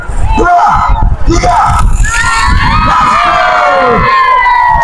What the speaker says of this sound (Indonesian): teriakan amak-amak